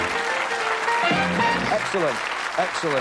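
Studio audience applause on a darts TV game show, continuous clapping that runs the whole way under a host's voice speaking over it.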